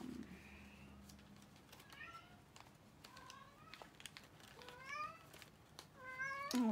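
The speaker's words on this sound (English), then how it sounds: "Oh, that's my kitty." A pet cat meows indoors several times, short rising cries spaced a second or so apart and growing a little louder toward the end, over a quiet room hum.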